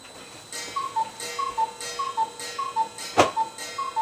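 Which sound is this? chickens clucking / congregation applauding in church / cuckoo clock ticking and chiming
cuckoo clock ticking and chiming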